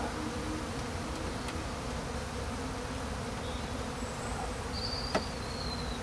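Honeybees buzz steadily around an opened hive during a first spring inspection in March, a dense, even insect drone close by with a faint tap near the end and no talking.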